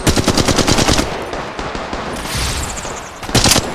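Rapid automatic gunfire in the video game Apex Legends Mobile, loud and close, a fast burst that rattles for about a second, a brief lull with softer shots, then another sharp burst near the end.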